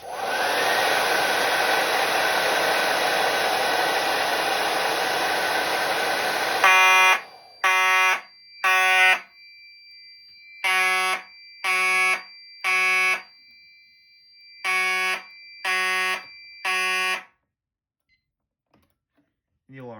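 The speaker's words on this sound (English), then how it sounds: "I'm going to go ahead and activate this heat detector by just using a hairdryer." A steady, loud hair dryer roars for several seconds, heating a heat detector, then cuts off as a fire alarm begins pulsing in sharp, repeated electronic bursts grouped in threes.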